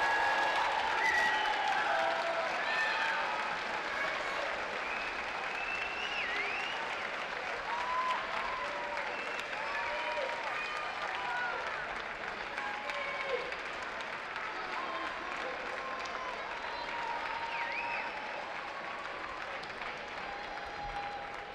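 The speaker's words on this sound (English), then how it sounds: "As the players walked out of the tunnel, they received a massive round of applause from the South Africa Road stand." A stadium crowd in the South Africa Road stand applauds as players of a women's football match walk out of the tunnel, a dense, distant sustained wash of clapping that fills the whole stretch.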